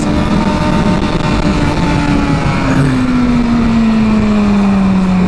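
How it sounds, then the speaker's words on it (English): A Suzuki GSX-R750 K7 motorcycle engine while riding, heard as a loud, continuous drone that steadily rises in pitch under heavy wind rush. "This bike builds up very smoothly, very predictively towards its peak power, towards the top end."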